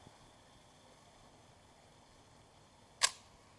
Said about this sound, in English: the mirror goes up first to reduce the vibration. It goes up first before the shutter fires